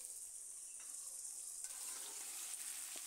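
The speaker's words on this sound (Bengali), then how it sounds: "এবার আমি সিমগুলো দিয়ে দিচ্ছি।" Flat beans tossed into a pan of already fried potatoes, giving a steady soft sizzle with faint scraping, close and fairly quiet, with no voices.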